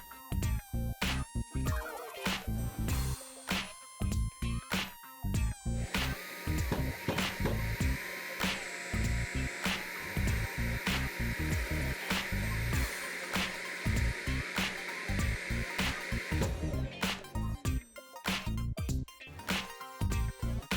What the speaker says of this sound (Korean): 청소기를 앞쪽에다 대고 작동을 시키면 분진이 위로 이동을 해서 제거가 가능한 거죠.